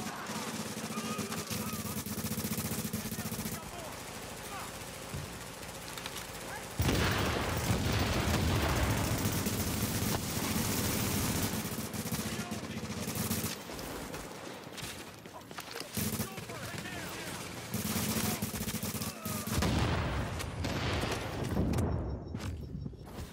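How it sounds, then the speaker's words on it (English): Bursts of automatic gunfire from AI enemies in The Division's Dark Zone, sustained rattling volleys with brief lulls, fairly distant and dense, rolling on for over twenty seconds. "why is the AI shooting at me and not at them?"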